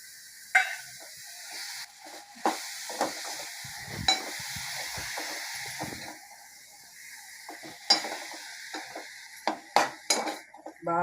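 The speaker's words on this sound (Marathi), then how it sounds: "बारीक गॅसवर हा कोलिम मी परतून घेणार आहे" Dried shrimp (kolim) sautéing in a pan over low gas with chilli masala and turmeric, a faint steady sizzle under repeated clinks and scrapes of a spoon stirring against the pan.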